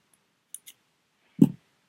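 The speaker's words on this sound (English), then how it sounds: "So then I just cut off the excess." Scissors snip off excess 1.2 mm cord on a kandi bead cuff: two quick, close clicks, then a dull thump against otherwise quiet surroundings.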